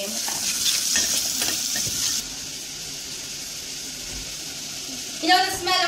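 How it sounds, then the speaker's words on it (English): Cubed bacon fries in a pan with a steady, bright sizzle that softens partway through, a brief clink of stirring near the end, and no voices over it. "we're gonna start by frying our bacon"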